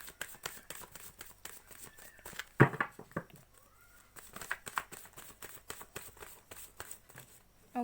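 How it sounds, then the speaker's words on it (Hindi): Tarot cards being shuffled by hand: soft, papery riffling and repeated light taps and slaps in irregular bursts, fairly quiet and close, with no talking. "सबसे पहले मैं कार्ड्स निकाल लेती हूँ।"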